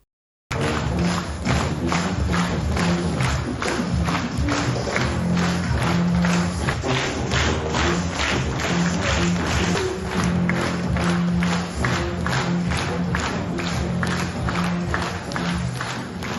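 A theatre audience applauds after a drama troupe's touring performance, dense sustained clapping from a full hall that starts abruptly and carries on steadily throughout.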